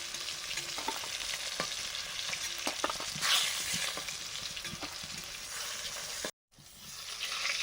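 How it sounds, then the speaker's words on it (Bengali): Potatoes meant for a golden carp fish dish fry in a pan, giving a steady, close sizzle with scraping stir strokes throughout and a sudden brief cut to silence near the end. "মাছের আলুগুলো ভেজে নিচ্ছি।"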